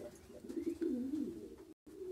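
Racing pigeons coo softly in a loft, a low continuous burbling call close by, running steadily for a couple of seconds with a brief cut partway through.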